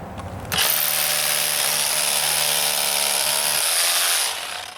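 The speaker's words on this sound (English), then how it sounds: "you need to drill a hole in here so you can put an anchor in" A Milwaukee 2712 M18 Fuel 1-inch SDS-Plus rotary hammer drills into brick with a loud, steady buzzing hammer rattle that starts abruptly, runs for about four seconds, then winds down.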